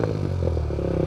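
A warmed-up Kawasaki Z125 Pro fitted with a Yoshimura RS2 exhaust gives a short, close rev, a brief rumbling engine burst with no voices.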